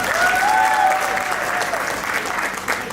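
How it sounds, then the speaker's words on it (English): At an Australian Muslim achievement awards show, the crowd claps steadily in a brief, dense burst of applause, with a faint whistle or cheer riding over it early on. "Can I get a round of applause for both Ahmed and Sumaya"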